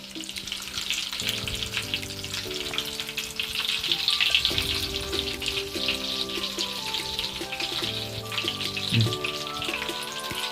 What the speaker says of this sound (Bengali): তেলের মধ্যে দিয়ে দিলাম, দিয়ে একটু লাল করে ভেজে নিতে হবে।